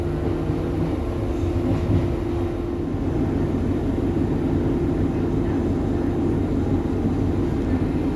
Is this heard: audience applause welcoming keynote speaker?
no